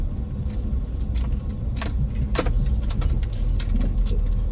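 Cars and other vehicles pass on a busy road during early-morning travel to Misa de Gallo, a steady loud rumble of traffic with brief sharper clinks and bursts over it, no talk.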